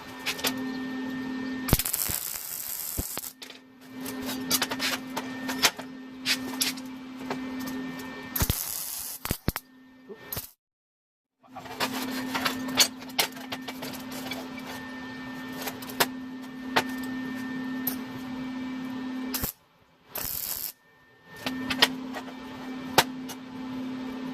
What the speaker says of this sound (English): we are going to be welding this in.